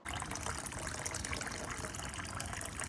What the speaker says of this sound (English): Fill the container with 2 liters of water.